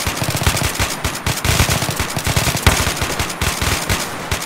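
Loud rapid automatic gunfire from the Nightfall 2048 mod for the game Battlefield 2, a continuous stream of close shots with a few brief breaks and no talking.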